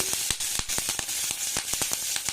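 Cumin, mustard seeds and chilli fry in hot oil, giving a steady soft sizzle dotted with sharp little pops and crackles as the seeds burst, fairly quiet and close.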